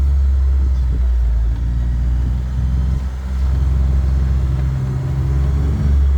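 Utility vehicle engine running at a steady low idle, a loud close rumble that holds throughout with a brief dip midway.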